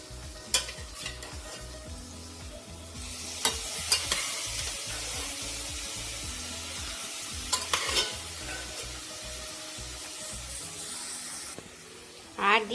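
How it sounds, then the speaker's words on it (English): Cashew nuts fry in a pan for a mutton gravy with a steady hissing sizzle, marked by clattering stirs and a few louder knocks near the start and end. "After adding cashew nut, fry it for 1 minute."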